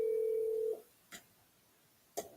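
A telephone gives a steady dial tone that cuts off, followed by two brief clicks or keypresses of a call being dialed, heard alone against a faint background hiss.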